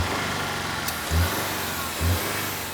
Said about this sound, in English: the XT earns a 2 litre turbocharged engine that puts some real spice in the drive